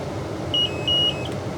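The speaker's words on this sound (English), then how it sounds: "The in-cab alarm will begin to sound after 5 seconds." The in-cab alarm of a Heil DuraPack Python automated side-loader garbage truck gives two short, loud electronic beeps in quick succession over a steady engine rumble.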